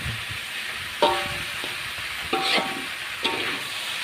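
Tempeh and tofu stir-fried in sweet soy sauce over medium heat hiss steadily in the pan, with a few sharp scraping stirs of the spatula breaking through the soft sizzle.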